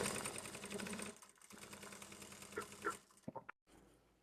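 A sewing machine stitches two fabric pieces right side to right side for a small lipstick pouch, a rapid close whirring run for about a second, followed by quieter handling and a few sharp clicks.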